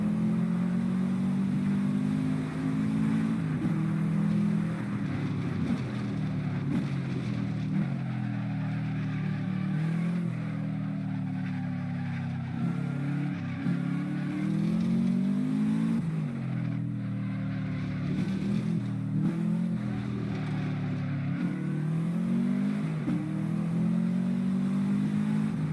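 Subaru WRX (2007 GD, modified, Hotversion-style tuning) in the Assetto Corsa racing game, engine droning and revving steadily around a qualifying course, with rising and falling pitch through gear changes, loud and continuous with no talk.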